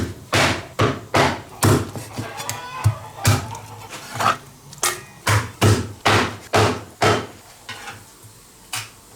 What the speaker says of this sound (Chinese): 我们把那个鸡稍微砍大点哈